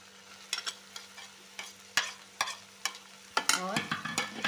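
Mushrooms being added to softened tomatoes in a hot pan, giving a series of sharp clattering stirs and brief sizzling bursts, building into a steadier fry toward the end.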